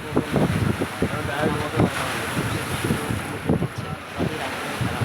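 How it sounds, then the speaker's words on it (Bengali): Sea surf breaking on a beach at dawn, a steady broad wash of surging waves with wind rumbling across the microphone, while people talk nearby over the continuous roar. "সমুদ্র আওয়াজ শুনতে হবে তো"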